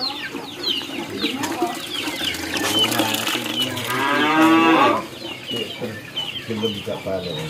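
A female cow in a village pen gives one loud, drawn-out moo, with other farm animals and people talking around it.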